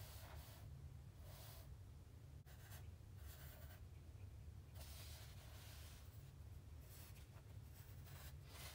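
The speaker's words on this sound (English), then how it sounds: "I'm going to draw a line." A pen or pencil scratches across paper in a continuous soft scraping stroke, drawn blindfolded during an attempt at the Mona Lisa; faint, close and broken by brief pauses, with no talking.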